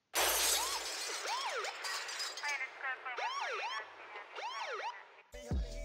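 A glass crash sound effect of the kind used in phonk tracks gives a loud shattering burst at the start, followed by wailing, siren-like sweeping tones and a final sharp hit.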